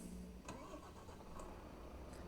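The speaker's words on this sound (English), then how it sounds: "let's start the engine." A truck engine starting up in Euro Truck Simulator 2, a faint cranking catch followed by a low rumbling idle with a few soft clicks.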